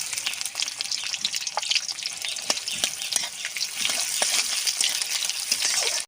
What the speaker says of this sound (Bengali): পেঁয়াজটা সুন্দর করে ভাজা হয়ে গেছে